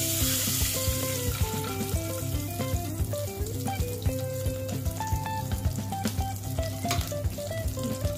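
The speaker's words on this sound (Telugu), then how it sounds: "కొంచెం హీట్ అయిన తర్వాత ఘీ వేసుకుందాము" Ghee sizzles and crackles steadily in a hot pan on a stove, a dense, continuous frying hiss with occasional stirring clinks, close and fairly loud throughout with no talking.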